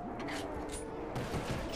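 Rapid gunfire in a Call of Duty zombies game runs dense and continuous throughout, with bright bursts layered over a steady rumble, and a brief voice slips in beneath the shooting.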